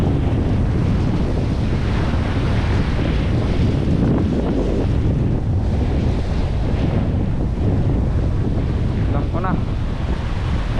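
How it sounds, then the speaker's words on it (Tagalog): Wind gusting on the seashore during a fishing trip, with surf: a loud, constant roar and buffeting rumble across the microphone, unbroken for the full length, with no clear speech. "Mahangin pa."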